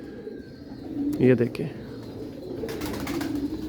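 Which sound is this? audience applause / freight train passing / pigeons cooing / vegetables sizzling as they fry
pigeons cooing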